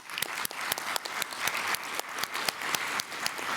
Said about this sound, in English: join me in giving our panelists a round of applause